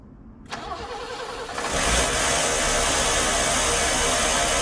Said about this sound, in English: So we're gonna start her up and see how much quieter she is.